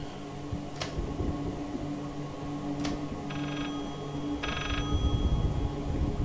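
Telephone in the horror game Layers of Fear ringing in two short electronic bursts amid a low droning ambience, preceded by a couple of faint sharp clicks.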